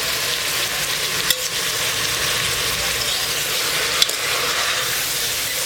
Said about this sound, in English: Now we need to roast onions and add tomatoes, almost 150 gram.